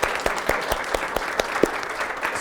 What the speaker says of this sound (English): So let's give our people a round of applause.